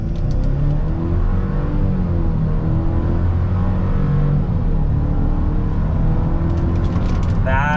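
A 2025 Chevrolet Silverado regular cab with the 2.7 TurboMax engine, in 4 auto with traction control off, launches hard from a brake-rev for a 0-60 run, its engine drone rising steadily and loud throughout, with a brief voice near the end.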